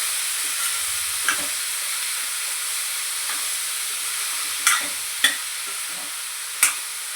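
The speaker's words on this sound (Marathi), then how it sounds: "आता आपण गॅस मोठंच राहिली एवढं हलवून घेतो" Ridge gourd vegetable frying in a pan over high heat, a soft steady sizzle with a few brief scraping clatters as the spatula stirs the pieces, close by and with no talk.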